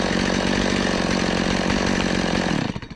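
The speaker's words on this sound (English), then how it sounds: "I've never had a chainsaw that started that nicely for me" A Stihl MS170 chainsaw runs loud and steady at close range, its buzzing two-stroke engine holding a constant pitch before cutting off and sputtering to a stop.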